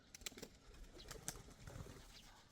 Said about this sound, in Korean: 새들이 막 날아다니고.